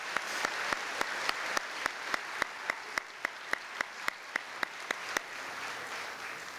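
At an 8th grade promotion ceremony, the audience claps for the teachers: steady general applause with one loud, rhythmic clapper standing out in a regular beat before the crowd fades.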